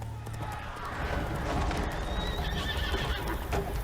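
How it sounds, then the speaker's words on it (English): Horses whinny and gallop off with rapid hoofbeats in The Witcher 3, the neighing and clip-clopping layered over a dense, busy game soundscape that stays loud throughout. "Horses running away,"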